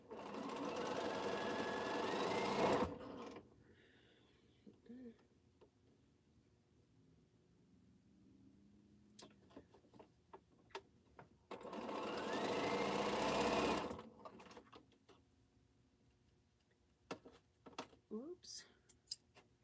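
Domestic sewing machine stitching quilt half-square triangles, two loud sustained whirring bursts separated by quieter stretches with clicks and handling noises, close up.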